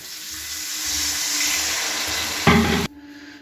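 Spices such as red chili, ground coriander and garam masala being stirred with a splash of water in a pan for egg tarka, giving a steady broad sizzle, with a louder burst of sizzling and water sound near the end before it cuts off.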